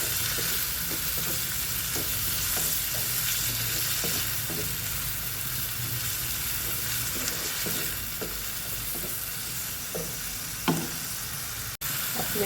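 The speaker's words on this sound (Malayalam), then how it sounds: "വഴറ്റിയെടുക്കും." Tomato and salt sauté in a pan, a steady broadband sizzle running throughout with scattered soft knocks of stirring, close and fairly loud, no voices.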